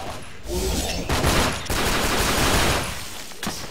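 Enemy gunfire in The 3rd Birthday game, a dense crackling volley of rapid shots sustained over several seconds, briefly easing twice before dropping away near the end.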